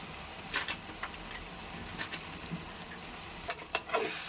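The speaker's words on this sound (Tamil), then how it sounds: "எல்லாம் மிக்ஸ் பண்ணிக்கலாம்." Egg semiya with turmeric and chilli powder sizzles softly in a frying pan while a spoon stirs it, giving scattered close scrapes and taps over a quiet, steady hiss; no talking.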